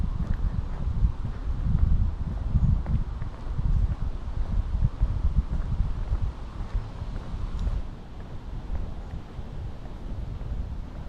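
Breezy outdoor air in a residential neighbourhood of Jefferson Westside: wind buffets the microphone as a low, fluctuating rumble under a faint rustle, steady for about ten seconds and easing slightly near the end, no talking.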